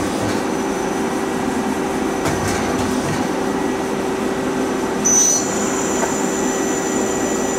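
A Femco HL25N CNC turning center with an 8-inch 3-jaw chuck spins its spindle at 1,000 RPM, producing a loud, steady mechanical hum with a constant tone, recorded close to the chuck, with a brief higher whine near the end.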